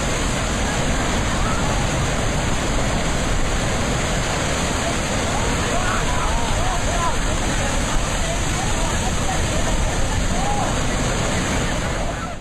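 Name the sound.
churning water in a deadly pool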